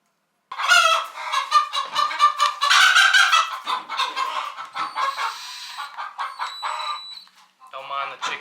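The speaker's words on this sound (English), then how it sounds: "Don't mind the chickens." A flock of chickens clucking and squawking nearby in a shop setting, a dense run of overlapping calls rising and falling for several seconds before a brief lull and a final burst, with no talk.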